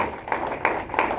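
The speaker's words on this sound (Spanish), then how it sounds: "denle un aplauso al Señor" A church congregation claps in rhythm, with about four evenly spaced claps heard close together over a reverberant room.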